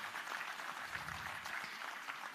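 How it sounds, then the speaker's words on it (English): An audience at a markets conference applauds in welcome of Finance Minister Nirmala Sitharaman, soft, steady clapping heard from a distance with no break. "A huge round of applause and heartily welcome to her."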